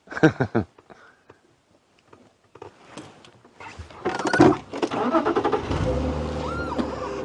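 A car engine rises out of near silence and grows into a steady, loud rumble as the vehicle comes close and passes, with no voices, in a safari game reserve at sunrise.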